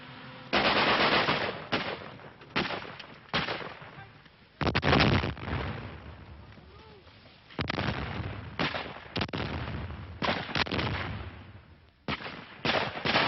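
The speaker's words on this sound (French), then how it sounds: "l'officier d'action psychologique nous apporte même l'écho lointain de combats plus réels. Une mitrailleuse Bren" Bren light machine gun firing in bursts during military combat training, loud and close, with short repeated volleys separated by brief pauses and a reverberant tail after each burst.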